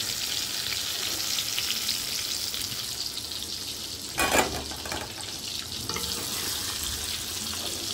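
Black cumin seeds fry in hot oil left from frying aubergines, giving a loud, steady sizzle close up. A brief clatter comes midway, and no one speaks.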